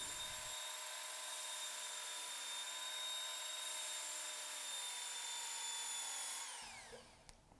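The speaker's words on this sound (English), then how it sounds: "I'm just gonna match the existing bevel, make a few passes until I form a burr" Loppers being sharpened on a Ken Onion Knife and Tool Sharpener Mk2 belt grinder, a steady, loud high-pitched motor whine with grinding as the blade is held to the belt, which winds down near the end.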